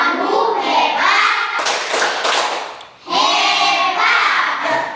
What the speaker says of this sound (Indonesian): Kita tepuk hebat karena kita masih semangat.